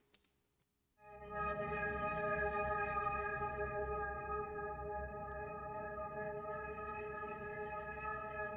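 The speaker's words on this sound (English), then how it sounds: "another pad with some reverb and a low pass filter and then some reverb." A sustained synth pad with reverb and a low-pass filter swells in after a second of near silence, then holds as a steady, layered drone with a rich low end and a softened top, with no voices.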